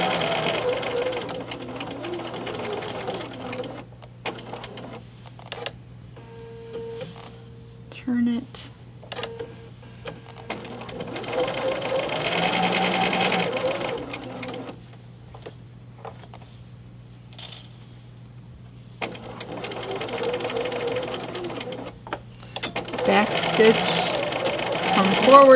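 A sewing machine stitches a fabric face mask, reversing for a back stitch and then running forward again, in several short bursts of close mechanical whirring separated by pauses.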